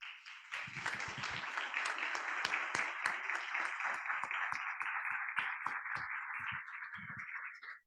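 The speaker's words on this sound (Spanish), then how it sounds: "para quien pido un aplauso" Applause from an audience at a law faculty seminar, with steady clapping and distinct individual claps standing out, sounding slightly thin and close, before it cuts off at the end.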